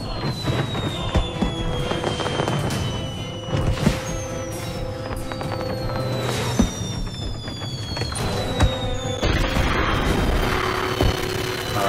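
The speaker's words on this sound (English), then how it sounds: "Nice, fireworks." Repeated fireworks bursts in the video game South Park: The Stick of Truth crackle and boom over a steady rumbling background, with whistling rising tones streaking across, loud and continuous throughout.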